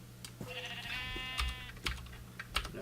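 A sheep in the Minecraft video game gives a short wavering bleat at low level, set among soft clicking keyboard taps.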